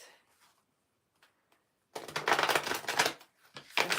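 Animal Spirit oracle cards being shuffled close up, a few faint taps and then a dense burst of riffling for about two seconds, pausing and resuming briefly.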